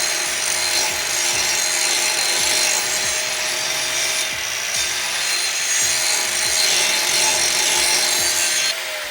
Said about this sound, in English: Whenever you get ready to stop your grinder, always stop it on the metal